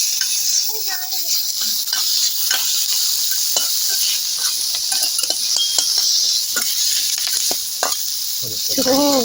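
Chicken kothu parotta with curry leaves stirred in a hot pan, a steady loud sizzle throughout with repeated scraping and clinking of the spoon against the pan, close by.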